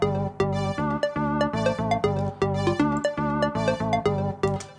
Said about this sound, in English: We get this little saw wave thing.